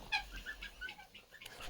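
Young goslings in a sawdust-lined brooder peep with faint, high, repeated calls scattered across a brief moment, with no voices.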